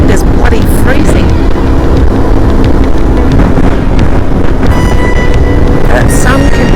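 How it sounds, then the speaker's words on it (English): Strong, freezing wind on a mountain top along the Transalpina road buffets the microphone in a loud, rumbling roar, with faint voices underneath. "it just got windy, and the wind is bloody freezing"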